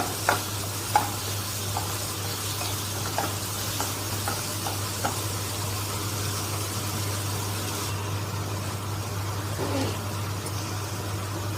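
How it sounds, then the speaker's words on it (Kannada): Onions frying in a pan for paneer bhurji, a steady close sizzle with a few light stirring clicks near the start and a low hum underneath. "ಈರುಳ್ಳಿ ಚೆನ್ನಾಗಿ ಫ್ರೈ ಆಗಬೇಕು"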